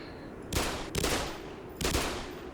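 Gunfire in the video game Black Mesa: three heavy broadband bursts of shots, each ringing out for a moment before fading, with no voices over them.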